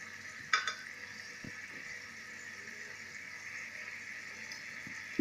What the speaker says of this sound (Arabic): غنخليهم يتشحروا واحد شويه مازال، ونبقى نحركهم باش ما يسقوش ليا في الكوكو